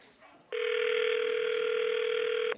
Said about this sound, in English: Oh, we got a ring. It's ringing.